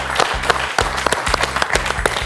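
Studio audience applauds on a French television quiz show, a dense patter of clapping over a low musical bed that pulses through the clip, fairly close and steady.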